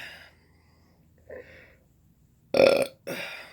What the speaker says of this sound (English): This is really a burp-loaded mukbang.